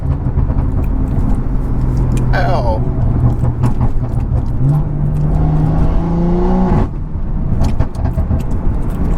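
A BMW 340i engine revs hard and accelerates, its pitch climbing through the gears in loud rising sweeps with a sharp shift partway through, heard from inside the car while someone briefly exclaims.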